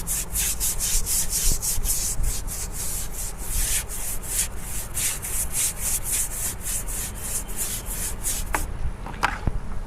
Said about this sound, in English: Hit it with the brush again.